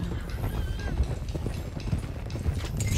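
Horse hooves clip-clopping with a brief whinny in the Red Dead Redemption 2 video game, a loose stallion running close by over ambient noise and game sounds.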